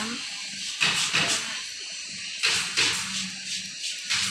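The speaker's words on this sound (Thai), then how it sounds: "ฉีดน้ำที่ใบด้วย จะได้ชุ่มชื่น" Water sprays onto plant leaves in short hissing bursts, two main spurts with pauses between, close by, with someone talking quietly in the background.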